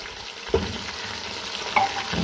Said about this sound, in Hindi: इसको सारे को शामिल करके हम हल्का सा भून लेंगे